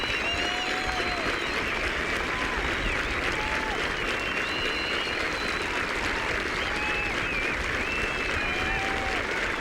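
A large golf gallery at the 1995 Volvo Scandinavian Masters final round claps and cheers steadily after a ball lands in the stands, a dense, continuous wash of applause with whistles rising above it throughout.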